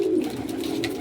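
A kalanch pigeon coos in one steady, drawn-out low murmur, close and clear, with no talking.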